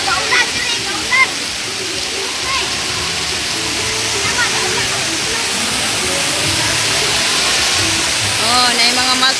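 Water fountain splashing at a resort, a constant loud hiss of falling water with children's and adults' voices chattering faintly over it.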